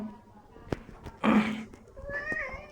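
A cat meows near the microphone: one short cry, then a longer, tonal meow about a second later, amid some background noise and a brief soft thump.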